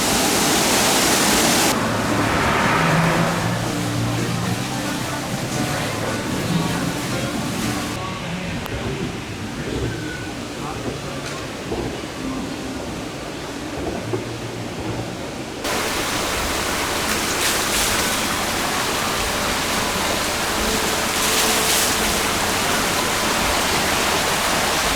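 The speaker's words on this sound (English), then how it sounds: "there's a big waterfall and lake" Waterfall pouring into a lake at the Silver Dollar City theme park, near the Wildfire, Powder Keg and Log Flume rides; a steady, loud rushing roar fills the whole stretch, with muffled crowd sounds mixed in.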